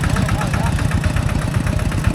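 A walking tractor's engine runs steadily nearby, a dense low chugging drone with rapid rhythmic pulses throughout, and voices mix in faintly.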